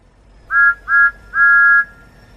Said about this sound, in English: Yes, sir, he whistled and set off at once.